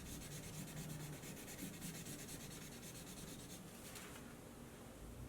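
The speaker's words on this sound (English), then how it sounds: "You're going to color above the pencil line." A crayon rubbed back and forth across paper gives a continuous soft scratchy scrubbing with quick regular strokes, close but quiet, with no voices.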